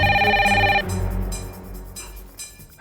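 A telephone rings loudly at night with a bright electronic tone that breaks off after about a second, leaving quieter room sounds with faint tonal traces.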